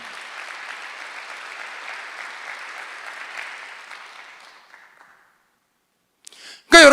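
A church congregation claps together during a Sunday worship service, a broad steady wash of applause that fades out after about five seconds, followed by near silence and a brief sharp sound at the end.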